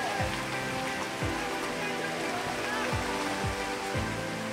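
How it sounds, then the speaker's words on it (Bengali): Dense, loud rain pouring steadily during a Kalboishakhi storm in Sylhet, heard from shelter in a mosque, a continuous wash of water with low thumps recurring every second or so. "এখন বৃষ্টি হচ্ছে, আমি একটা মসজিদে আশ্রয় নিছি"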